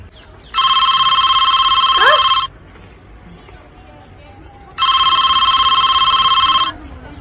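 A telephone rings in two long electronic bursts with a pause between them, loud and close, with faint background noise and brief voice-like sounds.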